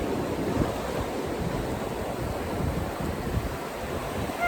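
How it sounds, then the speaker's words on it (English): Ocean waves wash in a continuous, soft broadband surf with gentle swells, with no voices. "Maybe that sound of the ocean just brought you a little ease and tranquility."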